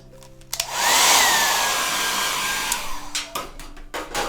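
Hair dryer blowing on a watercolor Santa hat painting, a loud steady whoosh that switches on after half a second and runs continuously, with faint handling knocks at the end.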